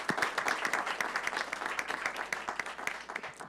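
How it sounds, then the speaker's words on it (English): An audience at a school board of education meeting gives a round of applause for a student sports group, with many hands clapping in a lively, slightly uneven rhythm, close and continuous. "Can we all give a round of applause to these guys"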